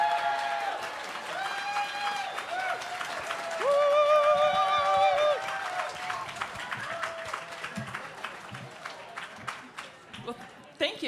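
Audience applause at an evening benefit gala as the board chair is welcomed to the stage, broad clapping with cheers and whoops rising midway, then thinning out toward the end.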